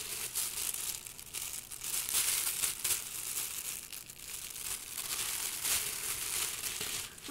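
A Cantata gift packet being crinkled and handled, a steady papery rustle with soft crackling peaks running throughout, close and fairly quiet with no voices.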